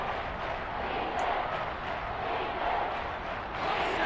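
Football stadium crowd swelling with a steady, dense roar ahead of a big third down in an SFL versus Falcons game, continuous and fairly loud throughout with no clear talk on top.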